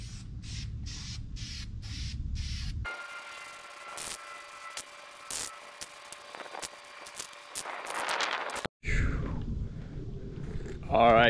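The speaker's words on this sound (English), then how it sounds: "We got some black paint. I'm gonna do a couple coats." A spray can applies black paint to taped-up parts of a Saab 9-3 Viggen in short repeated bursts, then a longer steady hiss, with a brief pause and some handling noise between.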